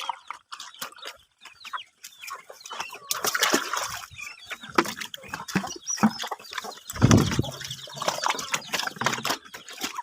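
Chickens on a rural farm cluck and chatter in short, irregular bursts close by, with a brief louder flurry partway through and faint splashing of water around them.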